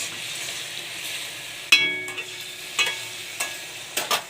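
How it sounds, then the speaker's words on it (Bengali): Boiled taro with spice masala stir-frying in a pan, giving a soft sizzle cut by a few distinct clanks and scrapes of a spatula against the metal. "মশলাটাকে দিয়ে আমি এবার একটু কষিয়ে নেব"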